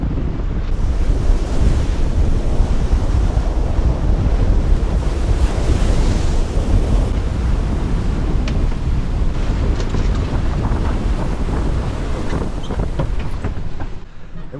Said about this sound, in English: The waves are already pretty steep and big